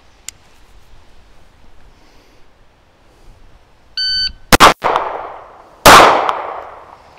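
A shot timer beeps, then two sharp, loud handgun shots ring out about a second apart at an outdoor qualification range, each followed by a ringing decay, with no talk.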